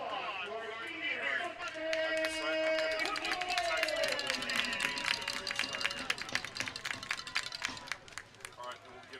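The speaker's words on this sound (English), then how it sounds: "Let's give you a round of applause for our senior" Crowd applause at a high school football game honoring a senior player, scattered outdoor clapping and cheering over a tonal public-address and music background, growing toward the end.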